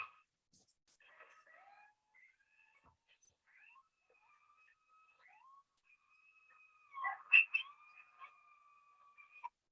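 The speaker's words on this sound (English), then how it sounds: "Those coyote pups howling together." Coyote pups howling together at night, several thin wavering high-pitched voices rising and sliding in overlapping cries, fairly distant and faint, swelling into a louder cluster of yips and howls near the end.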